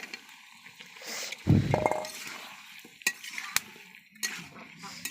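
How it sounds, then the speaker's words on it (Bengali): Potato curry is stir-fried in a pan: a soft frying hiss sits under scattered scrapes and clinks of a spoon against the pan, with one louder burst of stirring near the middle. "আলু দিয়ে একটু কষায় নেব। কষাই করছি তরকারি।"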